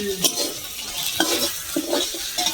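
Shrimp with salt and turmeric fry in oil to a soft, continuous sizzle, broken by several sharp clinks and scrapes of a spatula stirring the pan.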